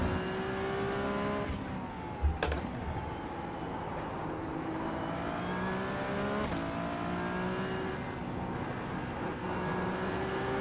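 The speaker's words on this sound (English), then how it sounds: "Love that blow-off valve sound." A GT3 race car in the iRacing sim racing game drones loudly and steadily throughout, its engine pitch rising and falling through gear changes, with a sharp brief burst near the start like a blow-off valve release.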